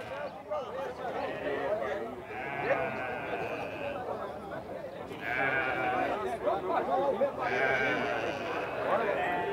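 Goats and sheep bleating at a livestock fair in Campina Grande, Brazil, several overlapping wavering calls rising above a busy crowd murmur, fairly near and repeated every few seconds.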